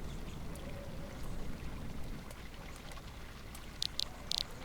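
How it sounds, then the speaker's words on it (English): Steady hiss of a small waterfall in a virtual Second Life setting, a soft, continuous rushing wash with a few brief clicks near the end, faint and unaccompanied by voices. "That's a nice little waterfall there,"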